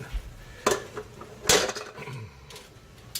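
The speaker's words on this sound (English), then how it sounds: "And I'll just stir that all together and let it become one." Clam linguini is stirred together in a pan, making a few scraping clatters of utensil against metal over a soft background hiss, close and intermittent, with no one speaking.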